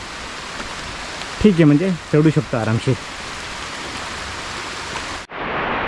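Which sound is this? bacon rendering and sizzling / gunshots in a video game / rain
rain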